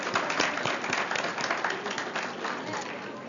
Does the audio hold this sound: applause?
yes